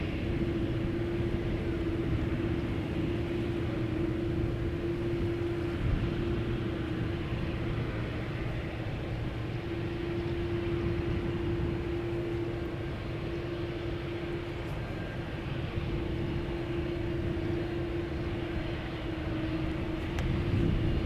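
A heavy jet airliner taking off on Schiphol's Polderbaan runway produces a sustained, broad, steady roar with a constant low drone, heard from some distance without voices.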